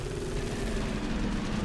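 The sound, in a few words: missile launcher firing in video game Space Hulk: Deathwing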